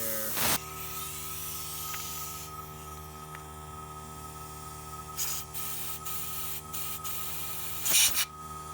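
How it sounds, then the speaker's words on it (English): Compressed air blasts through the carburetor jets of a Honda VTX1300 motorcycle being revived after sitting dead for five years, a sharp hissing spurt followed by several shorter bursts over a steady background hum. "We got some compressed air here."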